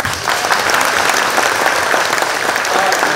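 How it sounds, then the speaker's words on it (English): Guests at a VIP dinner during an RV dealership's annual open house burst into dense, loud applause with some cheering, a continuous crowd roar filling the room. "Let's give them a round of applause."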